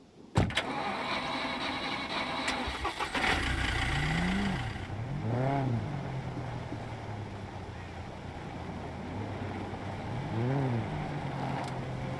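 A vehicle engine drives in the video game Scum, a steady, moderately loud drone with rising and falling revving tones as it speeds up and shifts. A couple of sharp knocks come near the start, and a voice talks over it.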